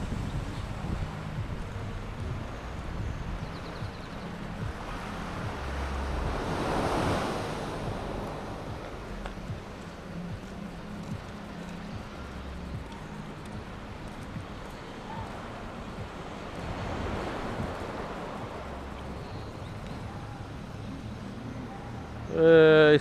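Ocean waves break steadily in a bay on Tobago, a continuous wash of surf with two gentle swells in loudness, backed by light wind noise, moderately distant and without talk.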